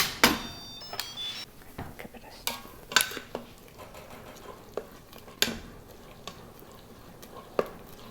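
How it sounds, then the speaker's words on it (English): The lid comes off an Instant Pot of steel-cut oatmeal with apples and cinnamon, a series of sharp metallic clanks and clatters scattered irregularly over a quiet kitchen background. "let's take off the lid and see how our oatmeal turned out"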